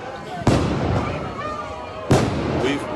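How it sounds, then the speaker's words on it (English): Two sharp, loud explosive bangs go off about two seconds apart behind a protest crowd marching past a police precinct, each followed by a rumbling wash of crowd noise and voices. "Explosions can be heard behind us."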